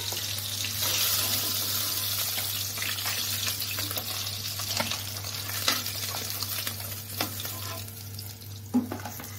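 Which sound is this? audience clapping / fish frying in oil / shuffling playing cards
fish frying in oil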